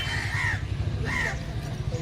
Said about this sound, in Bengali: যে বিভিন্ন পাখির কিচিরমিচির সারাক্ষণ চলছে